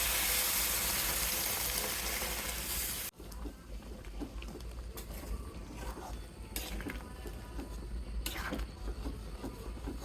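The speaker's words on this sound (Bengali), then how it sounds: "খুব ভালো করে ভেজে নিলাম এখন গরম জল দিয়ে দিই" Hot water meets spiced meat frying in a pan, a loud, roaring sizzle for about three seconds that cuts off abruptly into quieter crackling and bubbling.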